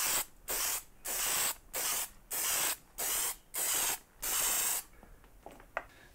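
Short repeated bursts from a spray paint can coat small bolts and washers, about eight loud hissing blasts in a steady rhythm, followed by faint clinks and handling noise.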